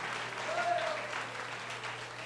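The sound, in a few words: church congregation applauding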